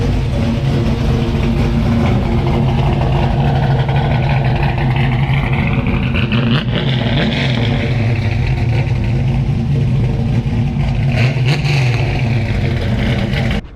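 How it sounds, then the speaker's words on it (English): A 1964 Ford Falcon pro touring race car engine runs loud and close, a deep rumbling idle with rising and falling revs through the middle and late part, continuous without talk. "You want to start it up, give us a few revs here?"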